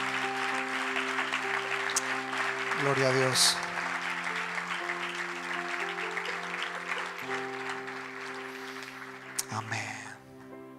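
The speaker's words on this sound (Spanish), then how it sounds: "Dale otro aplauso al Señor." A church congregation applauds during a Spanish-language service, clapping under sustained music and a sung or spoken voice, with a brief louder burst partway through.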